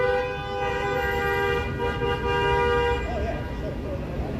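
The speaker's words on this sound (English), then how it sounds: "Who can out honk who?" Car horns honk on a downtown Toronto street on a Sunday evening, a sustained multi-tone blare that holds for about three seconds before fading, with street noise and voices around it.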